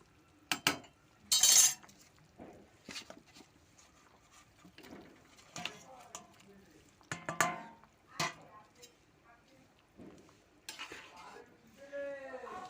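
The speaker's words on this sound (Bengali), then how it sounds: "এবার মাছ ভাজাগুলো আমি সব দিয়ে দেবো" Fried fish pieces go into a simmering fish curry in a pan, heard as scattered clinks, splashes and stirring scrapes at irregular intervals, close by, with a faint bubbling simmer between them and no talking.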